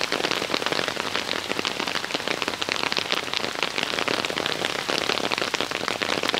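Heavy rain pours steadily at Lake Biwa in Japan, a dense, loud, unbroken hiss of drops pattering hard on surfaces close by, with no voices.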